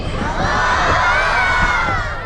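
A festival audience in Sirsi roars with sustained cheering and shouts of wow for a short poem, a loud, continuous crowd wash with overlapping voices throughout.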